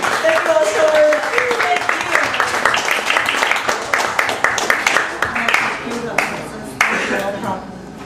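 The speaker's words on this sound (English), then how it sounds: "Let's see you taking the applause." Audience at a cafe show in Chicago claps and cheers, lively and close, with a whistle early on and voices mixed in as the applause thins out toward the end.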